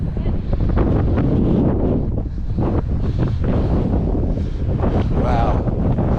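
Strong gusts on a hiking trail near Captain Cook's Monument buffet the microphone in loud, continuous roaring bursts, with a voice faintly mixed in.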